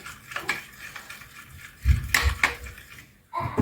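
A spoon stirs a honey and black pepper mixture for chicken kebab in a bowl, giving a few close, irregular clinks and scrapes against the dish with short pauses between them.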